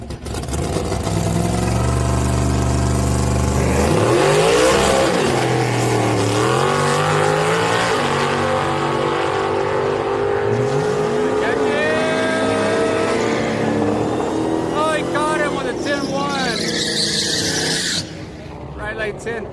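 Newer-model Chevrolet Camaro at a drag strip on a Friday street night at Houston Raceway Park, engine noise rising and revving loudly near the track under steady commentary and crowd talk.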